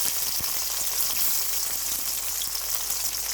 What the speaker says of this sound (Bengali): এখন হচ্ছে ভালো করে ভেজে নিচ্ছি